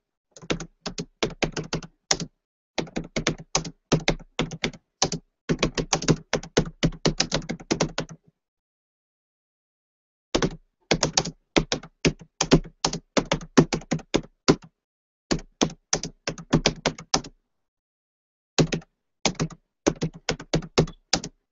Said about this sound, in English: See, I'm typing some of these things